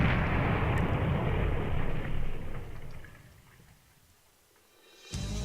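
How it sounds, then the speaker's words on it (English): Explosion in the Steins;Gate visual novel: a loud, sustained low rumbling roar that fades over several seconds, then a second burst of rumble swells at the end. "So apparently there was some sort of explosion."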